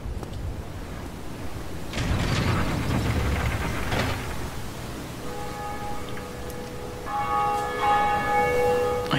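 A church bell in the Dark Souls video game gives a few heavy strikes, then a sustained, shimmering metallic ring that swells loudly and lingers to the end.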